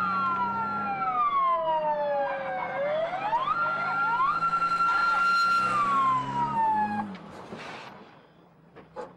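A police siren wails up and down close by, its pitch sweeping in long rising and falling cycles before fading at the end.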